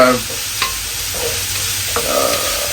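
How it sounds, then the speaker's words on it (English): Vegetables for millet pulao fry in a pan with a steady close sizzle, and a few stirring scrapes break in now and then. No voices. "So I'm going to just fry it for 2 minutes."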